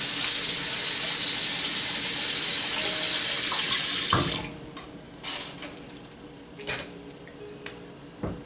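Water runs from a kitchen tap with a loud, steady hiss for about four seconds while parsley is drained at the sink. Then it cuts off, leaving quiet drips and light clatter.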